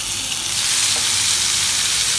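Tomatoes fry in oil in a pan with a loud, steady, close sizzle that holds evenly throughout, with no voices.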